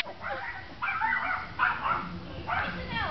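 Four-month-old guard-dog puppies yip and bark in short, high, whining bursts nearby, mixed with some background voices.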